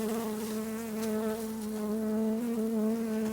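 Honey bees buzz around an opened hive in late winter, a close, continuous droning hum that holds steady throughout with no talk.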